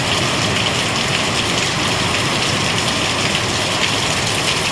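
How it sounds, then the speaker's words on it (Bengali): Heavy rain pours steadily onto a veranda, a loud, dense, unbroken wash of drops with no pauses and no voices. "এত জোরে বৃষ্টি হচ্ছে"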